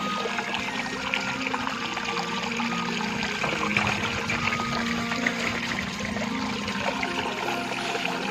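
Cold spring water in rural Trabada, Galicia, runs steadily into a bottle being refilled, a close continuous trickling and gurgling with a faint bubbling undertone and no voices.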